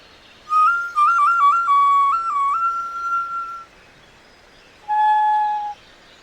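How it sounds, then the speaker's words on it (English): A small handheld whistle plays a bright, wavering melodic line of several stepped pitches for about three seconds, falls silent, then returns with one shorter sustained tone, close and clear with no talking. "So I play this whistle, right?"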